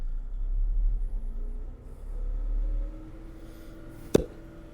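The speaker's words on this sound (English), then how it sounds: "So I'm going to rev it up, get it going, and show this off a little." An engine revs under a push-button throttle control box, a low rumble whose tone climbs gradually and then ends in one sharp metallic click, fairly faint overall with no talking.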